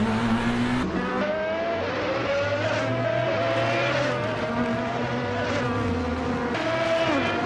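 Race cars roar past in a steady, loud stream of engine noise, their whining pitches climbing and sliding as they jostle nose to tail for the lead, with faint tire squeal underneath.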